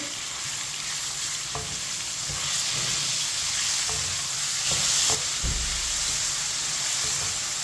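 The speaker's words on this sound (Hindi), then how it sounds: "चिकन डाल लेंगे। चिकन को मिक्स कर लेंगे।" Boneless chicken pieces stir-fry in a pan for chicken macaroni, giving a steady close sizzle with a few soft stirring knocks. There is no talking.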